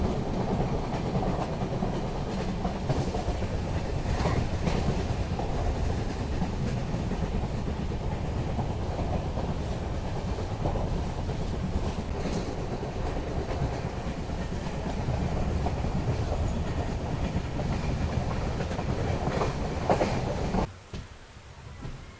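The Matsyagandha Superfast Express runs from Mangalore to Goa during the monsoon, giving a steady rumble and clatter of carriages on the rails, with rain adding a soft wash over the constant onboard noise.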